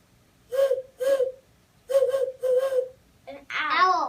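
A person's voice imitates a great horned owl's hooting, four short hoots in an uneven rhythm followed by a longer rising and falling whoop, close and alone.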